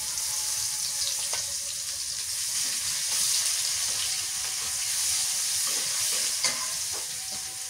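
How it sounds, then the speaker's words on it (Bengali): Steady, loud sizzling of onions frying in hot oil, with occasional stirring scrapes and clicks throughout; no voices. "পেঁয়াজ ভাজা হয়ে গেছে"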